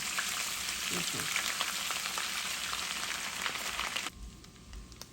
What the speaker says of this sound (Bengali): এখানে ভাজা হয়ে গেছে, আমি একদম গোল্ডেন করে ভাজবো না, হালকা ভেজে নেব।